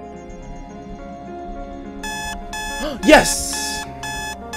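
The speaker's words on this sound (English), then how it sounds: "There's the alarm. That little thing went off last time." A harmonic electronic alarm beeps out in repeated bursts inside the video game Midnight Zoo, the first sounding alone and the next ones overlapped by a brief excited shout.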